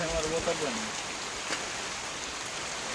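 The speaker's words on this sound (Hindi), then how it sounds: "देखो कितना जोर से बारिश चालू है।" Heavy rain that has fallen for about 36 hours pours down steadily as a dense, even hiss, with a faint voice or tone briefly audible at the start.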